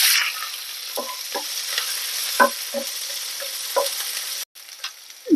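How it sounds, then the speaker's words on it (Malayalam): Onion drops into hot oil with mustard seeds and cumin, giving a steady sizzle and fry with a few clear stirring scrapes, close up and with no voices. "ഉള്ളി ചേർക്കാം"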